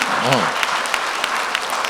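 An audience at a Tamil debate show claps for a family in a sustained burst of applause, a brief voice heard at the start before the clapping carries on steadily.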